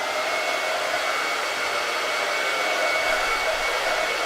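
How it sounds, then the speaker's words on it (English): Hair dryer blowing steadily to dry a Chalk Couture craft project, a loud, constant airy whoosh with a whining motor tone, close and uninterrupted with no talking. "Okay, I'm going to dry this."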